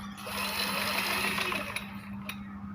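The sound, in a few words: sewing machine stitching a garment neckline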